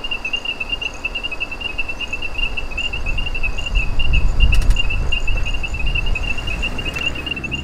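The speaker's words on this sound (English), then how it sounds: "Those are ornate chorus frogs." Ornate chorus frogs call in a continuous, loud, high-pitched trilling chorus on a Florida night after hard rain, with a low rumble swelling briefly in the middle.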